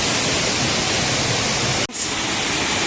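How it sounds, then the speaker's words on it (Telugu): Water pouring down a waterfall near Penchalakona temple makes a loud, steady roar like broadband rushing noise, heard close up, with one abrupt brief cut in the middle. "చూడండి అలా పడుతుంది వాటర్."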